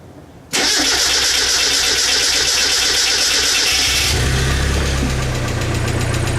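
A 1990 Mazda Miata, just fitted with a new fuel filter, cranks steadily and loudly for several seconds, then fires and catches into a rough, low running idle, close up with no talking.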